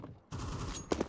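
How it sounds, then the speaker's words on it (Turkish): Counter-Strike gunfire in a competitive match, a dense burst of rapid shots filling most of the second after a quiet start, with two sharper cracks near the end, fairly loud and without talk. "Lan vurdum adamı."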